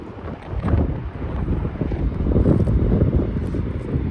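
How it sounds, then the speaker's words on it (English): Strong wind buffets the microphone in continuous gusts, roaring and rumbling throughout with no voices. "Super windy."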